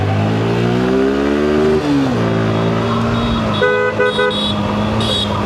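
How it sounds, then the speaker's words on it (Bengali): A motorbike ridden fast on the road, its engine tone rising and dropping as it revs, with a car horn tooting in several short bursts near the end. "তো বাইক টানতেছি উড়াধুরা"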